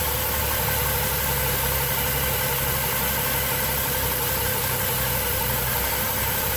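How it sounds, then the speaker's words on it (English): A car engine with a suspected blown head gasket idles roughly and steadily close by, with a low, uneven rumble and no talking. "This car is extremely idling, very, very rough."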